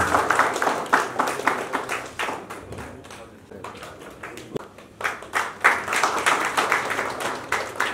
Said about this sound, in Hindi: तालियों की कमी गड़गड़ाहट स्वागत होना चाहिए।